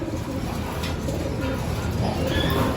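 Racing pigeons cooing in a loft, soft repeated low coos over steady background hum, close by with no talk.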